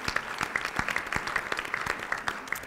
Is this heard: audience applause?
yes